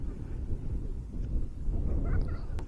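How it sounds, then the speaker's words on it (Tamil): Strong wind buffets the microphone at the Needle Rock viewpoint in Ooty, a steady low roaring rumble throughout with faint distant sounds near the end. "செம்மையாக காற்றடிக்குதுங்க."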